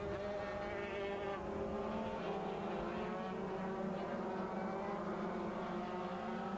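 Aprilia racing motorcycles, among them the Edo Aprilia, roaring through a 1996 race, a steady high engine whine that holds the whole time with a droning crowd-like wash beneath it.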